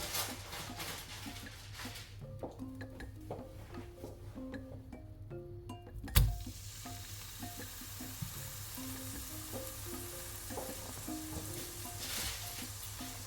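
Smashed beef burger patties sizzle steadily in an oiled pan, a soft continuous crackle with scattered pops, a sharp clatter around the middle, and no talking.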